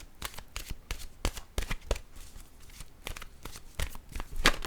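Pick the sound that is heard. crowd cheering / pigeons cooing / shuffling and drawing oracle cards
shuffling and drawing oracle cards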